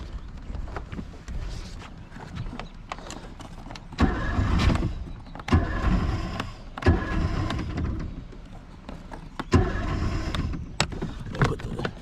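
Outboard engine of a Glastron speed boat cranking and starting with the throttle slightly open, bursts of cranking that catch into a rough running engine, with wind buffeting the microphone.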